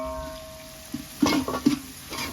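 Ravas fish curry cooking in a pot on a boat, stirred with a few scraping, sizzling strokes that swell between quieter moments of low simmering.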